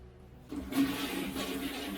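A toilet flushes with a sudden, moderately quiet rush of water that swells and then settles into a steady swirling wash, following a near-silent moment.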